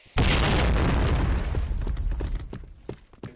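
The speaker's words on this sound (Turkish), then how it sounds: "Dikkat! Bomba atıyorum." A grenade blast from the Point Blank shooter game erupts as a single loud, close boom, followed by a rumbling, crackling tail and scattered debris ticks fading over a few seconds.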